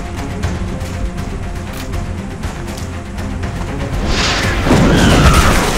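A rocket launched and exploding in XCOM: Enemy Unknown: a low rumbling build ends in a loud, heavy boom with a broad crashing burst.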